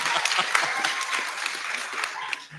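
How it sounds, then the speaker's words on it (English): Steady applause from an audience at the Áfàméfùnà documentary premiere, with dense clapping throughout and a few louder claps standing out before it tapers off at the end. "I just want to give him a round of applause"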